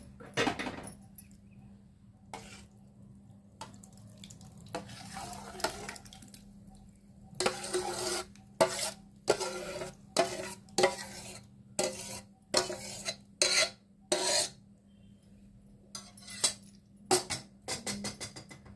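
Yogurt is scooped out of a container onto a cloth for shrikhand, with a spoon scraping and clinking against the dish in a run of irregular, close taps and knocks.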